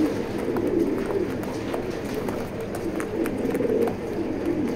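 Male racing pigeons coo steadily and close by, a soft continuous low murmur of overlapping calls with no talking.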